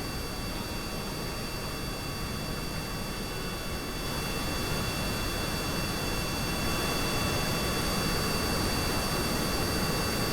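A scaled C-130-sized plane in Kerbal Space Program roars with a steady, dense jet-like engine drone, loud and continuous with no talk over it.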